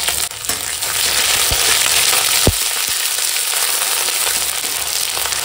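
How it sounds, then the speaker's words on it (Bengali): Ginger and cumin paste fries in hot oil with green chillies and five-spice tempering for a vegetable curry, giving a steady broad hiss of sizzling with a few sharp ticks and pops close by. "ফোড়নের সঙ্গে আদা জিরে বাটাটা একটু কষিয়ে নিচ্ছি"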